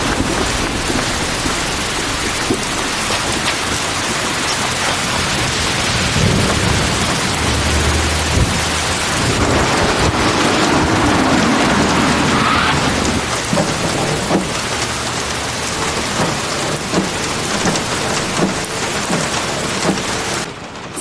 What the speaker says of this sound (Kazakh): Сеул қаласындағы кешкі ауа райы күрт өзгеріп, жаңбыр жауады.